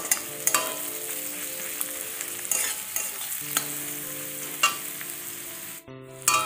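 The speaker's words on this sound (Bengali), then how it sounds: "রসুনটা একটু নাড়াচাড়া করে নিই, তারপর সবজিগুলো দিয়ে একটু ভাজা করব।" Crushed garlic sizzles in a pan under a steady fry while a spoon stirs it, with intermittent scraping clacks and a short break near the end.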